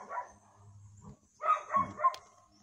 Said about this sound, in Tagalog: Oo tol, may mga aso tol.